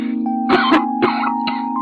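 Several harsh coughs in quick bursts from a sick person, close and fairly loud, with a steady hum running underneath throughout.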